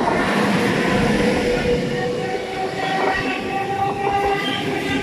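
A train passes close by in Schaffhausen, a loud, steady rumble and roar of rolling wagons with faint rhythmic clatter that fills the whole stretch without pause.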